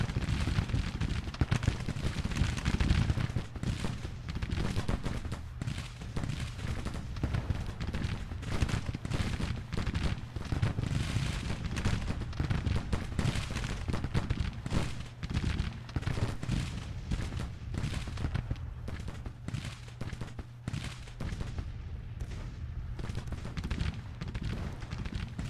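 Civil War battle in the strategy game Grand Tactician: Civil War, with infantry guns and artillery firing as a continuous, distant rumble full of crackling volleys and booms that carry on throughout.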